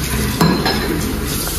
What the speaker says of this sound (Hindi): मम्मी बर्तन धो रही है अभी।